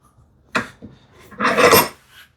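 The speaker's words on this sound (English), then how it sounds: "Narrow chisel." Narrow hand chisel paring wood, a short scrape followed by a longer rasping cut, close and fairly loud with no talk.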